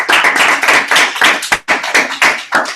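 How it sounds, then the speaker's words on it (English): Audience applause after a resort website class presentation: a dense run of hand claps, fairly loud and close, with sharp individual slaps standing out in an irregular rhythm throughout. "give a round of applause"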